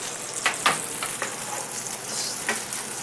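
Bacon fat sizzles steadily in a hot frying pan being readied for a fried egg, a close, continuous crackle with a few sharper pops and spatters and no talking.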